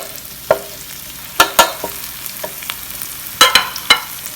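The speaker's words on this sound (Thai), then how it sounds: "เดี๋ยวผัดพริกให้หอมนะคะ" Chilies stir-fried in a pan for a Thai dish, with a run of sharp scraping spatula strokes against the metal over a low sizzling background, the clicks coming in uneven bursts close by.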